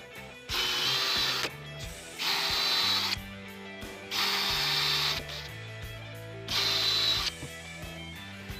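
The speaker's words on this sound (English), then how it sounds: "we're just gonna pre-drill the holes so the screws get in more smoothly" A power drill whirs in four short bursts separated by pauses, pre-drilling pilot holes for screws in wood, with low mechanical whines rising and falling between runs.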